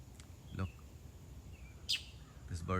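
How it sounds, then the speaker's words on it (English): A single bird gives short, scattered chirps and calls, fairly close but moderate in level, with a person speaking intermittently around them. "this bird is talking with us."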